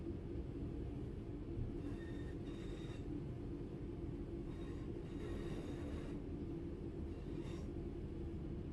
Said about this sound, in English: I don't know why it took the train so long to start up